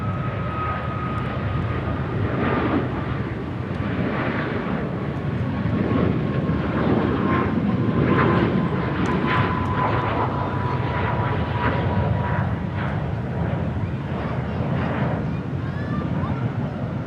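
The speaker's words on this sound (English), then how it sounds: "we have another 777 here. This one's heading to Rome." A Boeing 777 airliner taking off at Charlotte Douglas International Airport, its engines producing a loud, sustained roar with a high whine gliding slowly downward, heard from a distance outdoors.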